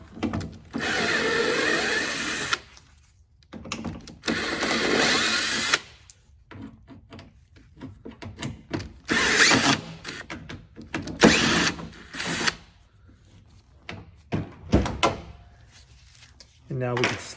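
Torx T30 bolts being removed from a BMW E46 door latch with a power driver, several whirring bursts separated by pauses, handling clicks and rattles, close up with someone talking in between.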